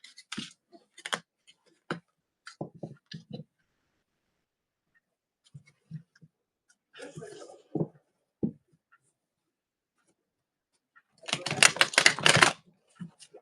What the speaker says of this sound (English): just giving them a good shuffle so that way they're ready to go